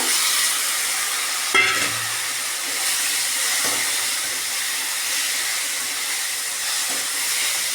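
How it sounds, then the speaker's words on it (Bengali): Chopped tomatoes fry in a pan with a loud, steady hiss and a few soft knocks from a utensil along the way. "এই যে কেটে রেখেছি টমেটোগুলো কুচিয়ে, এগুলো টমেটোগুলো ভেজে নেব।"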